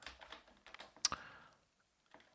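Light clicking keystrokes on a computer keyboard as C++ array code is typed, a quick close burst of taps with a louder clack, then a brief pause before more typing resumes.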